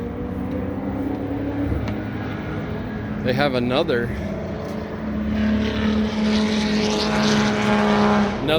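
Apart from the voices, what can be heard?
street cars driving on race track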